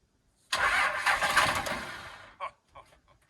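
A Cummins diesel truck engine cranks and fires up, starting abruptly with a loud burst, settling briefly, then sputtering in a couple of short bumps before quieting.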